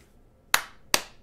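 Two light, sharp hand claps about half a second apart, close and crisp, each fading quickly, in an otherwise quiet room.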